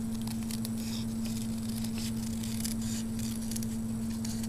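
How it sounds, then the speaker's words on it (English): Scissors snipping a paper spiral for a large mum flower, with soft, quiet, repeated cutting snips over a steady low hum. "You're going to cut out a spiral."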